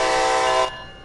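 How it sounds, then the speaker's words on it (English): A locomotive horn in the Train Sim World 2 game gives a loud, steady, close blast that cuts off abruptly, leaving only a faint tail. "Use the horn to notify others around that this locomotive is about to start moving. Do this with 2 short blasts."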